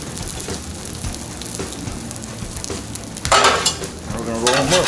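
Green pepper, onion and tomato sizzling on a hot Blackstone griddle; a steady crackling fry that surges louder and hisses harder partway through as more vegetables hit the surface.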